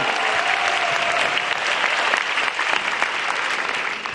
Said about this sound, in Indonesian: sekali lagi teman-teman tepuk tangan untuk Balai Sarbini